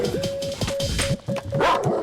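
A dog gives a quick run of barks and yips, close and fairly loud, amid other movie-scene noise.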